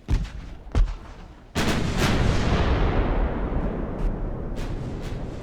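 Warship secondary guns fire in Ultimate Admiral Dreadnoughts, with two sharp reports followed by a heavy blast that rolls into a sustained, loud rumble of continuing gunfire.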